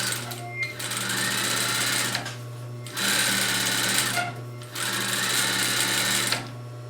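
A sewing machine stitches a reusable grocery tote bag in three sustained bursts separated by short stops, its motor hum steady and close throughout.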